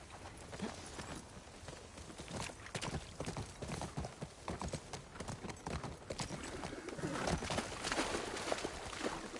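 Hooves clip-clop steadily on a hard surface in the video game The Last of Us Part II, a continuous walking rhythm of dense, close horse hoofbeats with no talking.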